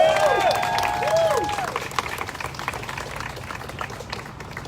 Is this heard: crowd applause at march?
yes